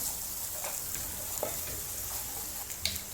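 Kabab gravy sizzles and bubbles in hot oil, fried until the oil rises to the surface, a steady soft crackling with occasional pops, close and fairly quiet, with no voices.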